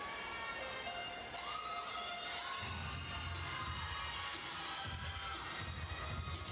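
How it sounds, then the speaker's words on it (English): A large crowd cheers and shouts at the 2009 Pac-10 gymnastics championships, a sustained distant roar with swelling surges. "And the crowd just goes wild."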